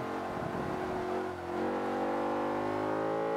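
A race car in Forza Motorsport 5 runs a downhill stretch and brakes, making a steady, loud engine drone with a shifting pitch that dips briefly mid-way. No one speaks.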